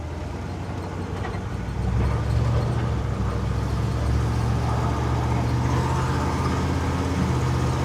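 A car fitted with a 650 CFM carburetor cruises on the road, its engine and road noise forming a steady, loud broadband drone that rises slightly in intensity after a couple of seconds and holds.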